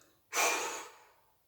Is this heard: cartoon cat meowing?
no